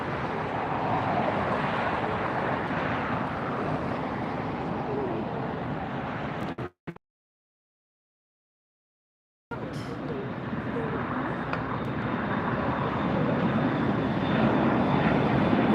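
A Spirit Airlines jet at LAX airport: a loud, broadband engine roar holds steady, drops out completely for about three seconds, then returns just as strong and continues to the end.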